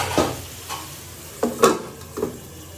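Raw banana and rohu fish curry stirred in a pan, a few distinct scraping strokes over a low sizzle, close and fairly quiet with pauses between moves.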